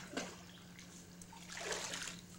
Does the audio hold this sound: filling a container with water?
yes